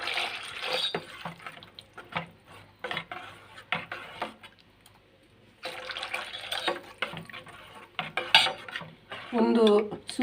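A cooking pot is swapped and water poured in for homemade soup, giving clattering clanks of metal pots and utensils in irregular bursts with a brief splash and trickle of liquid, close by.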